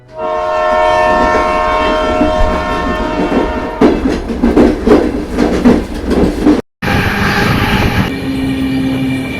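A moving passenger train blasts a long sustained horn, then rattles along with rhythmic clanking from the cars, followed by a brief cut and a loud, bright continuous tone over rumbling.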